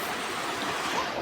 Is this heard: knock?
no